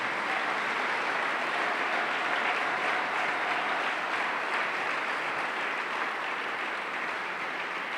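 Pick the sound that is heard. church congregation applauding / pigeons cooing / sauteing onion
church congregation applauding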